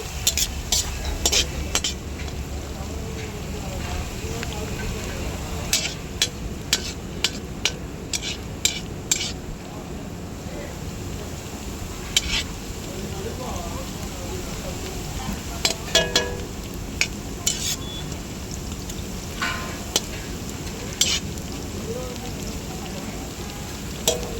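Cashew nuts fry in a pan in a dhaba kitchen for chicken liver fry, a continuous loud sizzle punctuated by frequent metallic clinks and scrapes of a ladle against the pan.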